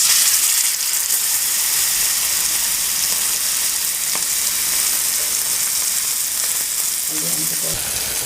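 Loud, steady sizzling of a piece of fish frying in hot oil, a constant crackling hiss close up, with a faint clink near the end.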